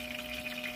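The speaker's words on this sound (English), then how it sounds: "You press this knob down to add some water" Flush water filling a caravan cassette toilet: a steady, close pump hum with a faint watery hiss, held evenly for a brief moment.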